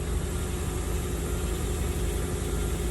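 A Nissan Versa engine runs at a steady idle after starting, giving a continuous low rumble with broadband hiss that stays even for the whole stretch, with no talk over it.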